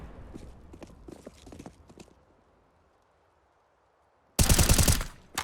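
Gunfire in Counter-Strike: Global Offensive during a competitive match: a few quick scattered shots and footsteps, then a short pause, then a loud, dense burst of rapid shots near the end.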